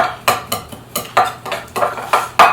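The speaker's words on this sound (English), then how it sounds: "Whisk it together." A knife scrapes and clinks rhythmically against a bowl while glaze for meatloaf is whisked together, about nine quick strokes close up with no talk.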